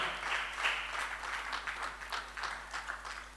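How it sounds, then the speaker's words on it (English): A lecture hall audience at a public lecture gives sustained applause to welcome the speaker, with a dense, even patter of many hands clapping throughout, fairly soft and distant. "we keep clapping until he reaches here"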